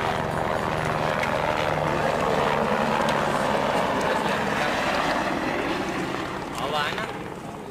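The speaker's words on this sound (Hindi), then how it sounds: "देखेंगे कि हमारे हेलीकॉप्टर आ रहा है" A helicopter's loud, steady rotor roar fills the scene, close by, with people talking over it as the noise eases slightly at the end.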